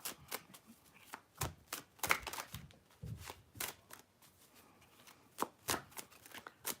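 Playing cards being shuffled by hand in a quiet room, a series of crisp riffling and snapping bursts repeating at an uneven pace, with no talking over them.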